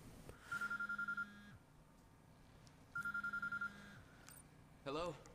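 Phone ringing in the video game Quantum Break: two clear electronic ring bursts, each about a second of rapid trilled pulses, separated by a pause, fairly close and loud, with a brief clatter at the end.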